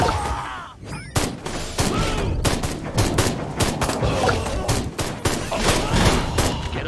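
Gunfire in the video game Destroy All Humans, dense rapid bursts of shots in a loud, continuous volley with sharp repeated cracks layered over battle noise.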